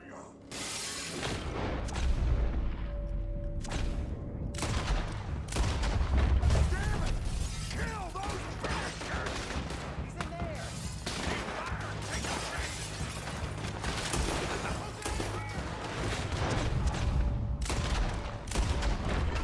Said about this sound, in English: here's the part where we start shooting them